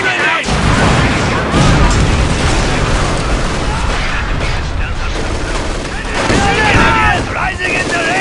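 A loud, dense barrage of booming explosions and battle noise fills a Company of Heroes 2 fight in which a rifle grenade goes off, continuous and heavy, with shouting voices mixed in.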